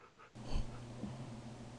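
A Minecraft wolf puppy gives a short burst of breathy panting and snuffling, close and fairly quiet, lasting about a second with no talk over it.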